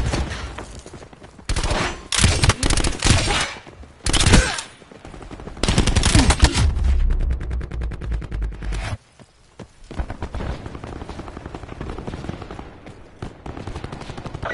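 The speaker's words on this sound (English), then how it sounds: "Sniper firing." A sniper rifle fires in a PS4 shooter amid heavy in-game combat: loud, sharp shots and dense gunfire bursts come and go over a rumbling battle backdrop, then fade to quieter crackling.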